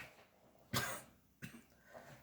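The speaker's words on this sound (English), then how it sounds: "I had to clear my throat." A person clears their throat in two quick, rough bursts, the first stronger and longer, the second a short follow-up, close and fairly quiet.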